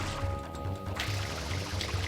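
Water sprayed onto fire in Super Mario Sunshine: a steady rushing spray with a faint rhythmic mechanical pulse beneath, continuous and moderately loud throughout.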